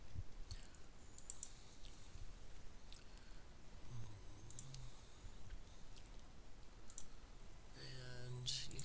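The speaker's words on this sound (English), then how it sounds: "you guys keep typing while I find the right one" Students type on computer keyboards in a classroom, producing quiet, continuous clicking and tapping scattered throughout, with faint background murmur and a louder clatter near the end.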